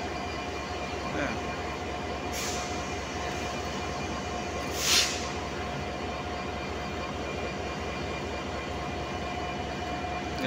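A train arrives at a large railway station with a steady, rumbling roll and regular rhythmic clatter of wheels, with a couple of brief hiss-like bursts partway through.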